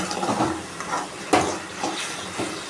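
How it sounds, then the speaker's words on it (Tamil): Wild mushrooms sautéing in a pan, a steady hiss and sizzle with occasional stirring clatter, close and moderately loud, with no voices. "வதங்கிட்டு இருக்கு பாருங்கள்"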